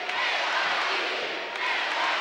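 A capacity wrestling crowd in Green Bay roars and cheers in a continuous, loud wash of voices from a packed arena, without breaks.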